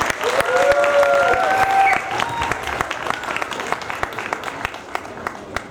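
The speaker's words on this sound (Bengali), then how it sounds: "সবার জন্য একটা জোরদার হাততালি হয়ে যায়।" An audience claps loudly after a comedy play performed by young children. The ovation is strong at first and then thins into scattered claps, with a few voices or whistles rising above it.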